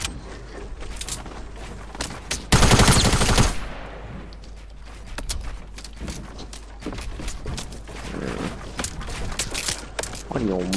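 Gunfire in Fortnite, with a loud dense burst of automatic shots around the middle and scattered sharper shots and impacts afterward, mixed with game sounds and occasional voice.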